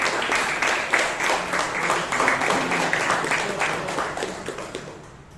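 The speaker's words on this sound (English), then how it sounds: "Can we have a huge round of applause for Toastmaster Hitesh, who is the evaluator for the Toastmaster?" Applause from an audience at a Bangalore Toastmasters club meeting, honouring an evaluator: dense, steady clapping from many hands that carries on throughout, then thins and fades near the end.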